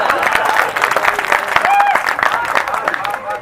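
An audience at a Hindi comic poetry recital breaks into a dense, steady round of clapping that carries on throughout, with a voice audible over the applause.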